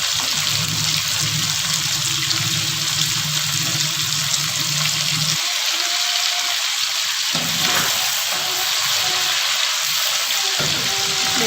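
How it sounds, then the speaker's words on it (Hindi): Fish fried in a pan for a home-style fish curry gives a steady, dense sizzle and crackle of hot oil that runs continuously, with a few brief dips, close to the microphone and free of talk. "अब देखिए, फिश की मैंने साइड को चेंज कर दिया है। इसको हमने ज़्यादा नहीं करना फ्राई।"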